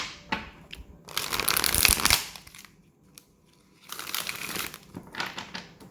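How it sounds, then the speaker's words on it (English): Tarot cards are shuffled by hand in two crisp bursts of riffling and slapping, about a second each, separated by quiet handling clicks, close and alone. "that wasn't a good shuffle at all."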